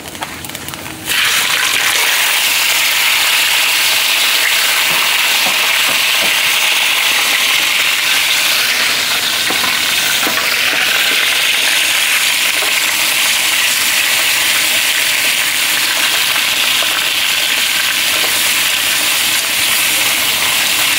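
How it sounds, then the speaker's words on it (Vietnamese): Garlic and freshly caught field eel fry in a pan for an eel hotpot, giving a loud, steady, continuous sizzle that starts abruptly after a brief quiet moment and keeps going without a break. "Giờ nương khử tỏi cho vàng rồi bắt đầu khử lương nha."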